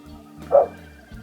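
A dog gives a single short bark at moderate distance indoors, over a low steady background hum.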